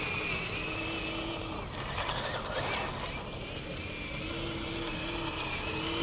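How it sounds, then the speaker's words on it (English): An RC Ripsaw drift tank with metal tracks crawls over rough ground, giving a continuous electric-motor whine with a gritty clatter of tracks and scraping terrain that stays close and steady throughout. "being a track vehicle, it goes through this kind of terrain very easily"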